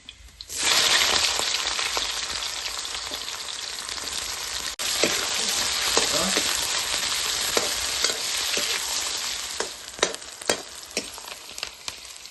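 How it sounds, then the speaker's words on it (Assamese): Loud, dense sizzling as onions hit hot oil, settling into steady frying with occasional stirring clatters and sharp pops toward the end. "এতিয়া মই দি দিম তেলত পিঁয়াজ"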